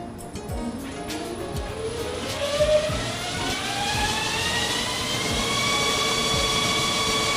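A vehicle transmission on a road test simulator dyno revs up to fill the torque converter, with a steadily rising engine and whine tone that climbs in pitch over several seconds, loud and continuous with faint clicks underneath.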